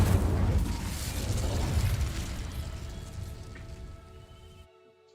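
The Incendio fire spell bursts in Hogwarts Legacy with a loud, roaring whoosh of flame. The roar fades steadily over several seconds and cuts off into silence, with no talking over it.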